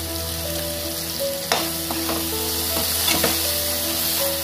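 Onion sizzles loudly and steadily in hot oil in a pan while a chicken keema curry is cooked, with intermittent scraping stirs and clinks of a spoon against the pan rising above the constant frying hiss.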